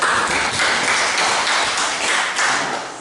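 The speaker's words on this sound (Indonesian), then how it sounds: "Kita tepuk tangan untuk" A classroom group claps for a fellow group after its presentation during a teacher professional training session, a continuous wash of hand claps that thins slightly toward the end.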